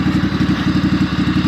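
Steady idle of a Craftsman GT6000 garden tractor with a Kawasaki FD590V V-twin engine, a close, even low chugging pulse with a slight clattering edge and no voices.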